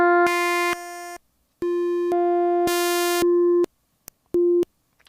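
A single oscillator on an Arturia MiniFreak synthesizer plays sustained, buzzy harmonic tones in several separate held notes of shifting pitch, with short gaps and brief blips between them, loud and close with no talking.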